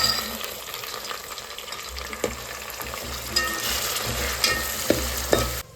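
Green peas tipped into hot oil with browned onion, giving a loud, busy sizzle with splashy crackles and stirring scrapes throughout, close up and without speech.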